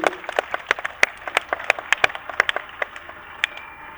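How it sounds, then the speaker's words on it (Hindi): Scattered, fairly loud applause from an audience at the Hindustan Mail festival event in Indore, with sharp individual claps popping out irregularly over a thin bed of clapping rather than a dense roar. "जोरदार तालियां मित्रों, तालियों में कोई कमी नहीं होनी चाहिए"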